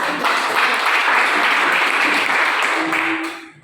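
Classroom students break into applause, a dense, steady burst of clapping that holds and then fades out at the end.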